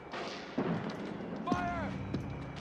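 Gunfire in Metal Gear Solid 4 during a suppressing-fire push: a few sharp shots and thumps over a busy battle backdrop with shouted soldier voices.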